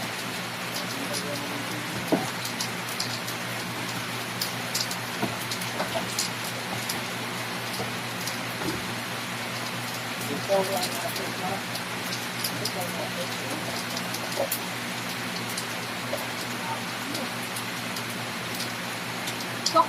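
Rain falling steadily in a dense hiss with scattered drips and taps on surfaces, continuous throughout, with a few voices speaking quietly underneath.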